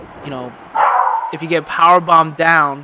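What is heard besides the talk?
dog barking in the background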